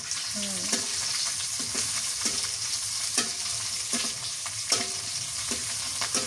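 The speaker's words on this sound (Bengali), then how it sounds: "রসুন আর মরিচ দিয়ে দিলাম তেলের মধ্যে ভাজে নিই" Garlic and chili sizzling in hot oil in a home kitchen at night, a steady frying hiss broken by repeated scrapes and stirs of a spoon in the pan.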